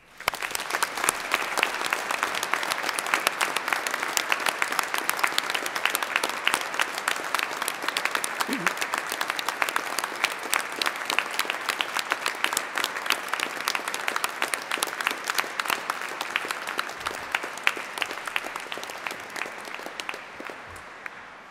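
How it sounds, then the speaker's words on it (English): Sustained applause from a large audience at a degree ceremony in Exeter Cathedral, dense and steady clapping filling the room for about twenty seconds before tapering slightly at the end. "giving all of our amazing graduates a huge round of applause"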